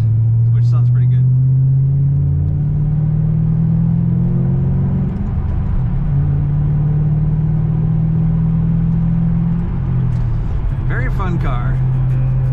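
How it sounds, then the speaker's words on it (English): Exhaust of a 2007 Ford Mustang Shelby GT500 convertible while driving, a steady deep droning rumble held throughout at close range, with a brief swell near the middle and a little wind noise. "all I'm really hearing is the exhaust, which sounds pretty good"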